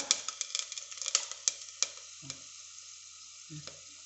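Whole spices (bay leaf, cinnamon, clove and cardamom) fry in hot ghee for chicken biryani, with close, crisp crackling pops and sizzles that come thick at first, then thin out to sparse spits.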